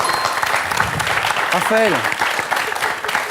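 Studio audience applause on the French TV quiz show Questions pour un champion, a steady dense patter of clapping throughout with a voice speaking over it midway.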